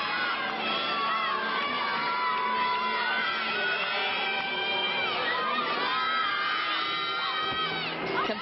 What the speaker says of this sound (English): You can hear her teammates screaming in the background,